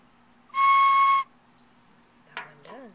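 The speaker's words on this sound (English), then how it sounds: "Here are my 4 whistles that I fired." A raku-fired ceramic whistle gives one steady, loud, high tone lasting under a second, followed by a brief voice.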